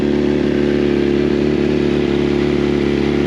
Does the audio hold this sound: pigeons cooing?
no